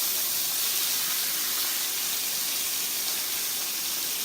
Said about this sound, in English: So as this is frying up